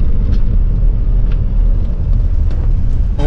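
A 1981 Jeep CJ7 on a test drive, its engine a steady, loud low rumble with road noise throughout and a few faint higher tones on top, no talking.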